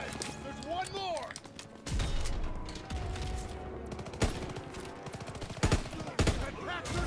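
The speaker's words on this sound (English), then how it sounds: "That Pack 38 still has a gunner. It's firing on our tanks." A Pak 38 anti-tank gun fires in a Call of Duty WWII battle, with heavy gunfire and blasts mixed with battle noise and scattered voices.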